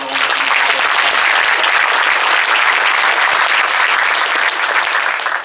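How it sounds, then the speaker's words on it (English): Sustained, even applause from a large audience at a political summit fills the space continuously, loud and full throughout. "Please join me in giving him a round of applause."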